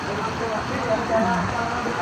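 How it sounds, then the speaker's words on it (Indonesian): Constant hiss of heavy rain pouring down at Lake Sleman, Tanjung Belimbing, Krui, dense and even, with faint indistinct sounds beneath it. "Masih di bawah guyuran hujan deras."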